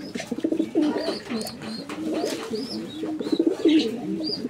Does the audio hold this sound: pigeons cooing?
yes